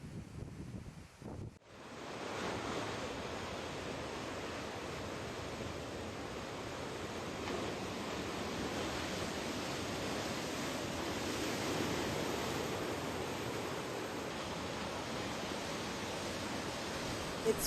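Rough Atlantic surf from storm Lee roars in a broad, steady wash with gusting wind along a New England shore. It is continuous and fairly loud after a brief quiet start.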